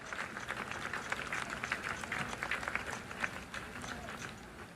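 Soft, distant applause from a college soccer stadium crowd as substituted players leave the field at a North Florida versus Florida State match, a steady spread-out patter of clapping rising and easing, heard faintly under the open-air ambience.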